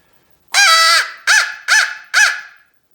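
Four loud, harsh caws blown on a crow call, one long drawn-out note followed by three shorter ones, separated by silence.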